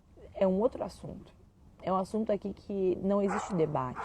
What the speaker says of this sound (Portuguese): Tem um cachorro latindo, o meu cachorro está latindo lá embaixo